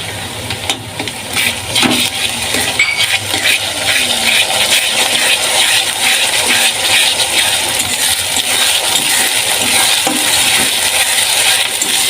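Ginger-garlic paste with green chilli frying among onions in a pan, a steady loud sizzle that runs unbroken throughout, with occasional scraping clatter from stirring.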